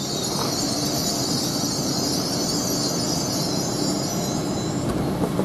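An LNER Class 800 train, unit 800 203, sits at Grantham station with a steady dense hum and hiss of its running equipment and faint high whines, close and continuous, with no talk.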